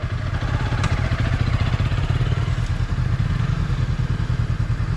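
A Honda CRF 300 dirt bike runs in low gear on a mountain road, its engine a steady, loud, rapid thumping rumble close by, without talk.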